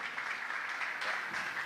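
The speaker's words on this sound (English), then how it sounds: "So please keep clapping, ladies and gentlemen." Sustained audience applause at a design and build expo, a steady wash of many hands clapping without pause, fairly loud and close.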